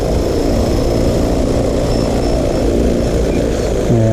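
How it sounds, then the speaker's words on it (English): A rebuilt radio-controlled Ikarus Eco-8 helicopter flies nearby with a loud, steady motor and rotor whine that holds constant throughout. "I took that helicopter from the hobby shop in Cookeville and rebuilt it"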